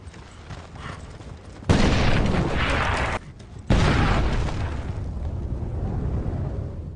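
Mine explosion in a war action film, a sudden loud blast that bursts in, cuts out briefly, then roars back as a sustained rumbling wash of debris and fire.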